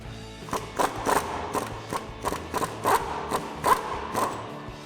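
A 17mm ratcheting wrench works the lower strut bolts on a 2014-2018 Chevrolet Silverado 1500, giving a series of close, evenly spaced metallic clicks over about five seconds.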